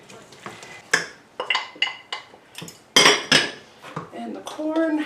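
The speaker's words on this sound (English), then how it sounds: "Give it a good stir." Chilli with pepper, corn and red peppers is stirred in a pot, a spoon clanking and scraping against the metal in a quick irregular series of loud, close knocks over a low simmer.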